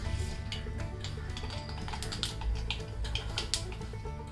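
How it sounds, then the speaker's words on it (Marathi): Mustard seeds crackle and pop in hot oil for a poha chivda tempering, a steady run of small sharp ticks over a low sizzle, close by with no talking. "मोहरी चांगली व्यवस्थित तडतडल्यावर ना त्याच्यामध्ये जिरे घाला"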